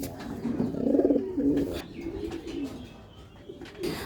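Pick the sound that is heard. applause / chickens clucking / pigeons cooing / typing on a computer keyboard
pigeons cooing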